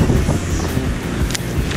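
Strong, gusty wind blows across a lakeside fishing spot near a red bridge on a stormy low-pressure day, buffeting the microphone with a loud, continuous roar and rumbling gusts.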